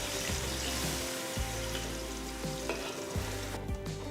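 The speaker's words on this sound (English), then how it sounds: "Cook the masala till it's nice and brown." A paste of ground onion, ginger, garlic and green chili fries in hot oil and ghee, a steady loud sizzle with periodic scraping stirs of a spoon against the pan, close up and without talk.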